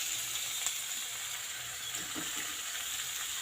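Boiled lata fish going into a hot pan with oil and coriander leaves, giving a steady, moderately loud hiss of sizzling with faint stirring scrapes near the end.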